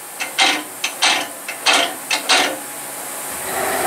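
Automatic tool changer on a PM727M CNC mill during a tool change, a rapid run of sharp mechanical clicks and clunks, about seven close, loud bursts in quick succession, then a low steady hum.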